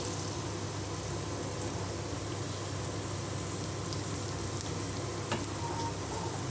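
Onions and dried red chillies fry in hot oil for a chana dal and spinach curry, a dense, even crackling sizzle that holds steady and close throughout, with a faint clink near the end.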